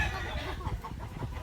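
Chickens at a family farm pen in Tagaytay cluck softly and intermittently, a busy low background of fowl noise with faint distant voices mixed in.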